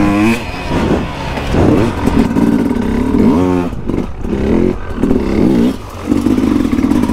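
A Sherco 300 enduro motorcycle on a motocross track revs loudly and close, its engine rising and falling in repeated throttle blips with some rattling clatter.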